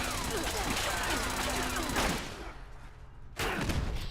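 Automated turrets in a Fallout 76 missile silo fire rapid bursts of gunfire, dense and loud for two seconds, briefly dropping off, then resuming with another burst near the end.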